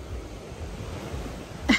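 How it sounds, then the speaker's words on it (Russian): Waves wash onto a beach at dawn in a steady, broad rush with no talk, and a brief knock breaks in near the end. "Вам тут мало что видно, зато хорошо слышен шум волн"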